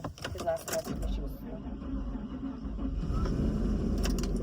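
A car engine cranks over and over while trying to start, a low rhythmic churning that runs steadily after a brief opening clatter.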